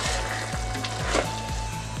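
Biryani masala for chicken biryani fries in a pressure cooker, a steady sizzle broken by regular scraping stirs, close and even, with no voices.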